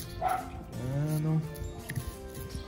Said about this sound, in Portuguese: Só esse cachorro é da vizinha aí que tá meio perturbado.